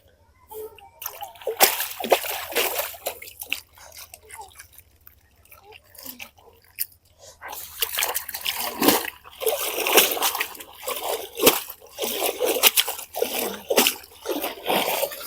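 Dates are washed by hand in a village kitchen, with close, irregular splashing and sloshing of water that grows busier partway through, and a voice speaks now and then.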